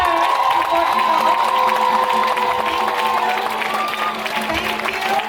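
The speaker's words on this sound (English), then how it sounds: "May we all clap for them first before we go?" Pageant audience at the Miss Africa USA event clapping and cheering for the top 10 contestants, a loud continuous roar of applause with whoops over music.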